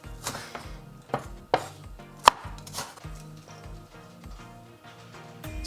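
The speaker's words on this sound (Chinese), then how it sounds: "葱头需要切碎" A knife chops scallion heads finely on a board. Steady, close, rhythmic taps of moderate loudness keep going throughout, with a few sharper knocks and no talk.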